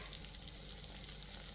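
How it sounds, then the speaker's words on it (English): Food frying in oil in a pan, a steady close sizzle and crackle that holds evenly throughout with no talk. "You can see them frying away there."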